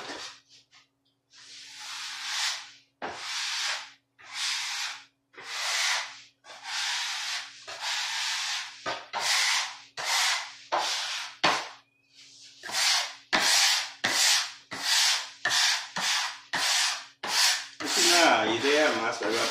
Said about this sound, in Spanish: Vamos a limpiar nuestra mesa